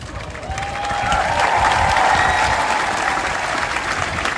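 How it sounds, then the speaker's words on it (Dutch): A large outdoor crowd at the TeamNL homecoming celebration applauds loudly and steadily, the clapping swelling after the first second and holding strong, with a faint whistle-like tone running through it. "En dan geven we ze nog een geweldig applaus en ook nog een bloemetje, jongens."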